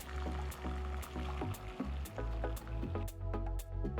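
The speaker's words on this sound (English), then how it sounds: "strain the water and keep the pieces aside." Cooked elephant yam pieces strained of their cooking water, a continuous close pouring and splashing stream with repeated sharp clatters of pieces in a pan, fairly loud throughout.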